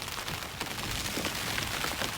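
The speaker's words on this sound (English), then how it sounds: "now you can have the sound of me talking and rain pitter-pattying" Rain patters steadily on a canvas tent close by, a dense even hiss of drops with no voice.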